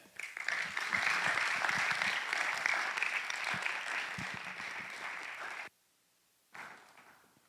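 A conference audience applauds a speaker taking the stage for a talk on pre-Christian Judaism, dense sustained clapping filling the room, then cutting off, with a short burst resuming after a brief silence.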